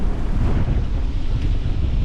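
Strong Force 8 gusts buffet the microphone aboard a sailboat in the Sound of Jura, a constant loud roar of wind with rushing water beneath and no voices.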